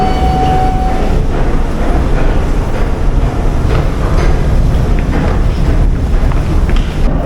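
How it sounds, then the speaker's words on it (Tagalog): A Toronto subway train on the Bloor-Danforth line at Pape Station rumbles steadily throughout, a loud continuous low roar of rolling stock with a brief tonal whine near the start. "Pape Station. Ayan ang subway dito."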